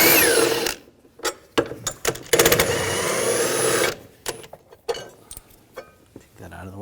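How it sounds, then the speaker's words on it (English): A ratchet with a 15mm socket loosens bolts during starter replacement on a 2007-2013 BMW X5 3.0L L6, giving sharp, rapid ratcheting bursts and metallic clinks close up. "15mm socket, take these bolts out"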